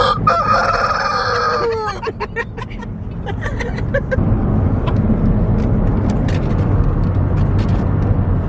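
A rooster crows loudly and close by inside a van, then a low rumbling engine-like drone continues underneath for the rest.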